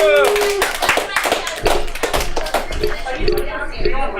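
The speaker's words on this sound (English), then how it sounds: "give her a round of applause" Comedy club audience clapping for a comedian, a burst of close, distinct hand claps mixed with voices and cheering, fairly loud and fading toward the end.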